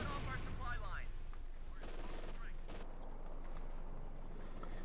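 American machine guns in Company of Heroes 2 rattle off in dense bursts during a Wehrmacht versus US Forces match, rapid gunfire with a few heavier reports, steady and loud under a caster's voice.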